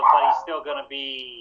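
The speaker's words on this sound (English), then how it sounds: "sorry about my dog, by the way." A dog barks and whines somewhere in the house, mixed in with someone talking on a podcast.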